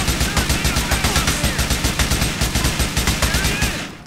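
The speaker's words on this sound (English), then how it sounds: "Laying down suppressive fire." Sustained automatic machine-gun fire in Grand Theft Auto IV, a loud, rapid, steady stream of shots for about four seconds that cuts off abruptly at the end.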